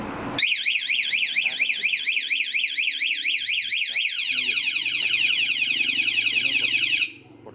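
Yamaha R15 2015 motorcycle fitted with a G-Lock anti-theft alarm, blaring a loud rapid warbling siren that shifts into a stepped sweeping pattern before cutting off abruptly, with faint speech underneath.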